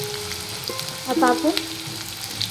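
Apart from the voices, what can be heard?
onion frying in a pan for batata vada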